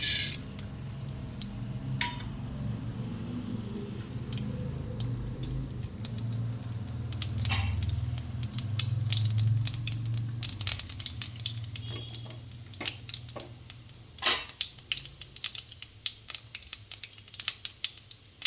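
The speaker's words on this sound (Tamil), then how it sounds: "கடுகு பொரிஞ்சிட்டுது" Mustard seeds, chana dal and urad dal spluttering in hot oil while tempering a bitter gourd stir-fry, with steady sizzling and frying under sharp scattered pops and crackles that grow sparser toward the end, close up.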